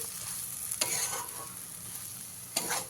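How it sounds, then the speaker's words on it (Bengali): Chopped leaves are stirred into a potato filling in a hot pan, with a constant soft sizzle and two louder scraping stirs of the spoon against the pan, close by and without speech. "এইভাবে পাতা কুচিটা ভালো করে মিশিয়ে নিলেই আমাদের পুর একদম রেডি"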